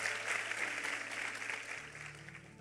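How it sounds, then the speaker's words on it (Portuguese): A church congregation applauds while standing after a sermon, a dense, steady wash of many hands clapping together, fairly faint and without talk, holding evenly for a couple of seconds. "Vamos aplaudi-lo, vamos ficar em pé"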